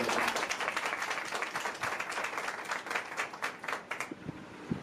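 Congregation applauding for Jesus during a church service, steady dense clapping from many hands, loud and sustained throughout.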